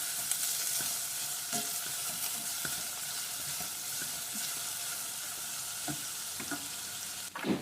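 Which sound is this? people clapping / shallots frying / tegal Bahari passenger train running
shallots frying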